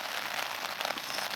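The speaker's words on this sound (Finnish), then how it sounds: "Ihan kunnon vesisade." Heavy spring rain pours down on a lakeside hiking loop, a dense, steady hiss of drops with no pauses or other sounds.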